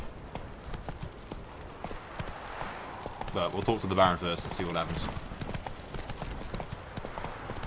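Horse hooves clip-clop in a steady walking rhythm in the video game The Witcher: Wild Hunt, with someone talking over them for part of the time.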